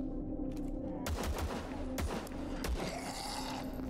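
Pistol shots in the shooter game VLADiK BRUTAL, a string of quick sharp cracks spaced irregularly, moderately loud over a constant low droning background.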